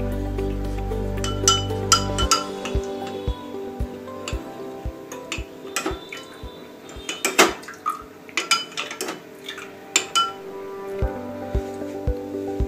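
A metal spoon stirring salt into water in a vessel, producing a run of sharp, bright clinks and taps against the container, some regular and some irregular, close and clear with short pauses between strikes.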